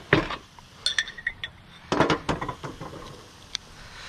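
Food flipped over with metal utensils in an Ooni Koda 16 gas pizza oven: a series of sharp, close clinks and scrapes in an irregular rhythm, with one tight cluster midway and a final lone clink.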